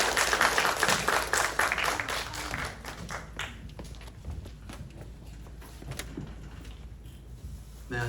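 A church congregation at a Korean evangelism mission service in Ulsan claps to welcome a visiting speaker, loud at first and then thinning into scattered claps and shuffling room noise.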